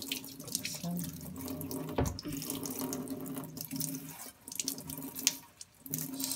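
Tap water runs steadily into a sink for a water-filter test, a continuous close splashing hiss with small drips and clinks, and no talking.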